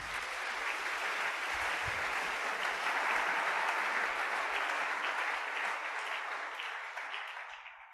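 A church congregation applauds the Lord at a service, dense sustained clapping that swells toward the middle and slowly thins out by the end, with a few faint voices mixed in.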